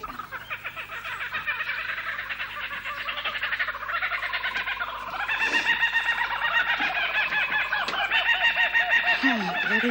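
Chickens cluck and crow continuously and loudly, a dense overlapping chorus of fowl that swells about halfway through, with no voices over it.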